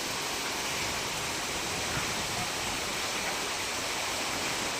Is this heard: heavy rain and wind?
yes